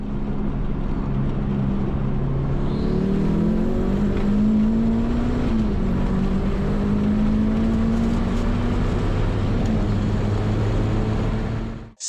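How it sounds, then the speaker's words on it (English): Hellcat Redeye car accelerating hard from 60 to 130 mph, a loud sustained engine roar with rising tones through the run, steady and close with no talk. "this is the 60 to 130 that the car just ran"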